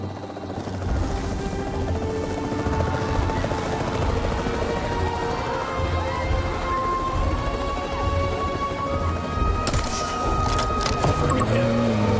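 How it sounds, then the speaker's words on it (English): A capture team helicopter in Jurassic World Evolution 3 drones on steadily with a continuous rotor whir and engine roar, loud and close, with a brief clatter of impacts near the end. "The priority needs to be tranquilizing it with the capture team chopper."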